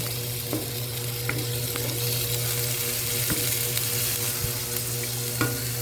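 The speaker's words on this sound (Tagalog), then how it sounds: "ihalo na natin yung karne. Yan, so, gisa-gisahin na" Meat sautés in a pan with a constant close sizzle and hiss, broken by occasional light taps and clinks from stirring.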